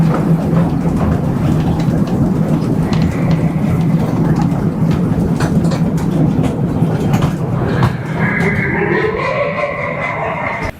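An amusement park ride train at Dream Holiday Park rolls slowly around a pond, giving a loud, steady, close rumble and rattling clatter that continues throughout, with a faint higher whine toward the end.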